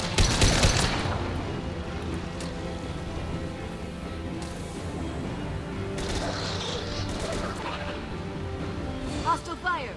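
Sustained gunfire in the video game Mass Effect 2, with a sharp loud burst at the start followed by continuous rattling shots and crashes under game character voices.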